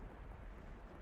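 Steady rain pours down through overhead leaves in the visual novel The House in Fata Morgana, a dense, continuous hiss with a low rumbling undertone that never lets up.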